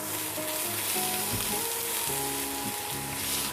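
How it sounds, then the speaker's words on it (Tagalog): Minced onion, garlic and ginger sizzle steadily in a hot pan, a close, continuous frying hiss with no one talking. "Lagay na natin yung ating 1 pirasong minced onion."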